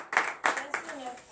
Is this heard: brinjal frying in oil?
no